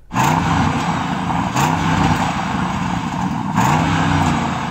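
A Bentley Bentayga engine holds a loud, steady roar close by, with brief surges around each second and a half that mark repeated throttle blips.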